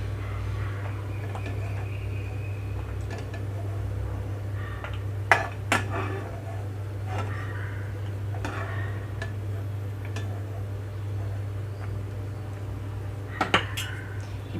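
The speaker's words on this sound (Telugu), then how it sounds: "ఆయిల్ రాకుండా పల్లీ మొత్తం ఒక ప్లేట్లోకి తీసుకుంటున్నాను" Fried peanuts are moved onto a plate with a few sharp metallic clinks of dishes and utensils, scattered over a steady low kitchen hum.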